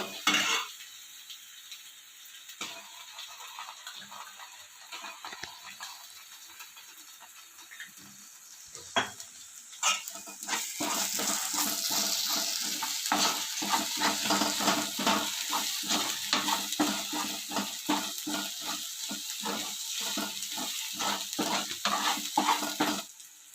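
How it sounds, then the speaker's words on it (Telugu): Onions frying in a pan as ginger garlic paste goes in for a crab curry, a quiet sizzle building into loud, steady frying at about ten seconds, with frequent metal spoon scrapes and clinks of stirring throughout. "ఉల్లిపాయలు అయితే వేగిపోయి అల్లం వెల్లుల్లి పేస్ట్ వేసుకుందాం"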